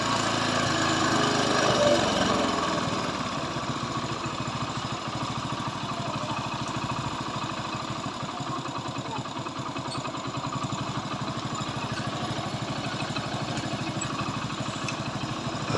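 A Hero Passion Pro motorcycle engine idles steadily at low RPM while being tuned, with a continuous even putter close by and no talk.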